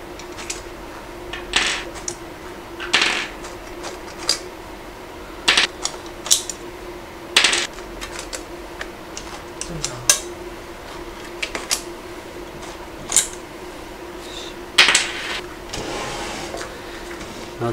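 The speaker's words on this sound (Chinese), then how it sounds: "先把这几个螺丝给拧下来" Screws being unscrewed from an Elite tumbler heat press while changing its mug wrap: a series of sharp clicks and metallic taps, spaced irregularly, close up, against a steady low hum.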